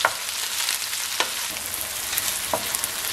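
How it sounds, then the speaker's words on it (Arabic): Onions sautéing in a pan toward caramelized brown make a close, continuous crackling sizzle dotted with scattered sharp pops, and no voices are heard. "راح نحمس البصل إلى أن يلين كل الزين ويتحول لونه إلى بني كارملايز"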